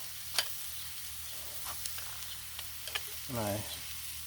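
Chicharrones are stirred on a Blackstone griddle, making a soft background sizzle broken by a few sharp scrapes and taps, with a brief voice near the end.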